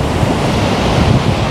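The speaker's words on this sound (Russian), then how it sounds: "И вот находит волна." Storm surf pounds a flooded beach at Anapa on the Black Sea, a loud, steady roar of crashing waves mixed with heavy wind buffeting the microphone, with no voices heard.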